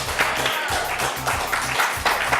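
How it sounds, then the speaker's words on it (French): Studio audience on a French TV talk show set gives loud, dense, sustained applause, with brief speech underneath. "Applaudissements, s'il vous plaît."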